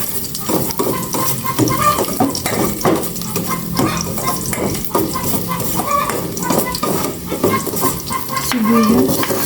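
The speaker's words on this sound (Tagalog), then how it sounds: "Gisa ko na po itong bawang." Garlic sautés in a hot pan for a home-cooked Filipino meal, a steady loud sizzle with scraping stirs and light clinks of a utensil against the pan, continuous throughout with no talking.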